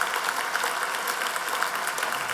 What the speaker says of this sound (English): So let's have an applause for Tom Jackson and his deal.